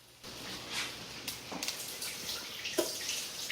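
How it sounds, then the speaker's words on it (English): Water from a kitchen tap runs and splashes into a bowl of frozen vegetables being prepared for chicken pot pie, a soft, steady pour with a few brighter splashes, fairly quiet and close. "So I'll put a little water in here just to knock the chill off of these"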